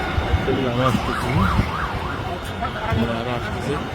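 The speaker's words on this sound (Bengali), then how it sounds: "আমার তো আসছে ফায়ার সার্ভিস।" A fire service vehicle's siren wails and swoops in repeating rising-falling cycles as it arrives at a factory fire in Ansan, South Korea, moderately close and steady, with street noise and some voices underneath.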